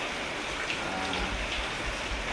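Heavy rain pours steadily on a construction site, a dense continuous hiss with low rumbling beneath, constant and close for the whole stretch with no voices.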